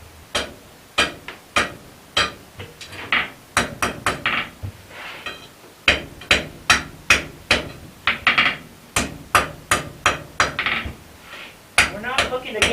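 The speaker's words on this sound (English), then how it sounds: "we're going to start off by upsetting this 3/8 round" A blacksmith hammers the end of a 3/8 round steel bar to upset it, striking in sharp, ringing metallic blows at a steady rhythm with brief pauses between groups of strikes.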